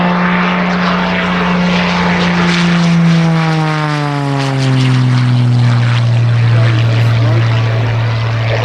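A Serpentine propeller aircraft roars low past the crowd at an air show, its loud engine note dropping steadily in pitch as it sweeps by, with continuous airflow noise throughout.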